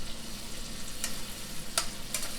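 Steady sizzling of shrimp frying in hot oil, crackling close by with a few brighter pops and spatters.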